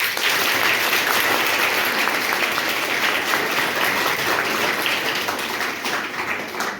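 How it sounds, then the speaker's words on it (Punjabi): Loud, sustained applause from an audience at an ITI women's institute event in Nawanshahr, dense clapping that continues steadily and fades slightly toward the end. "ਜ਼ੋਰ ਦੀ ਤਾੜੀ ਮਾਰੋ"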